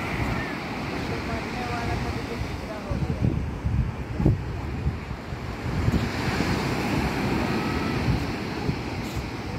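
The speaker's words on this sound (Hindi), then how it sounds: "पानी धीरे धीरे करके आ रहा है।" Water rolling in at a shore on a windy day, a steady broad wash of surf and wind noise with soft surges, heard alone without talk.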